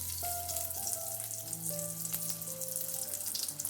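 Breadcrumb-coated tomato katori cutlets deep frying in hot oil, a steady close crackling sizzle with fine popping bubbles throughout, no voices.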